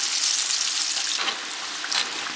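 Chicken gizzards, tenderized earlier in a pressure cooker, frying in hot oil to brown: a steady, dense close sizzle with crackling pops, no voices.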